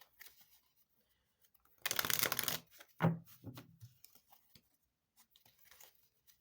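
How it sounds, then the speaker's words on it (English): A brief, crisp burst of tarot cards being riffled and shuffled by hand, followed by a few soft taps and rustles in a quiet room. "I don't pick the cards. I shuffle them in my hands"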